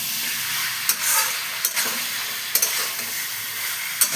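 Unripe jackfruit sautéed in mutton fat in a pan, with a steady sizzle broken by several sharp scraping strokes of a spatula spaced about a second apart, close and fairly loud with no speech.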